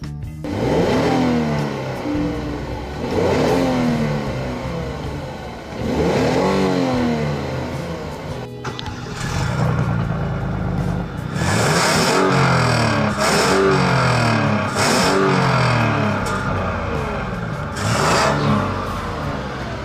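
A 2015 Hyundai Genesis with all-wheel drive accelerates hard several times, its engine note climbing in repeated rising sweeps, loud and close throughout with no talk.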